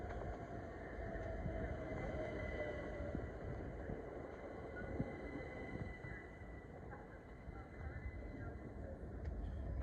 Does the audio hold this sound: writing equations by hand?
no